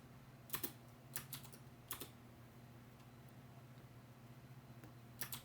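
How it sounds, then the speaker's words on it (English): Keys on a computer keyboard are tapped in short, quiet clusters of clicks as copy-paste shortcuts and Enter are pressed repeatedly, with pauses between, over a low steady hum. "copy and paste, enter, Control V, enter, and I'll just keep doing that."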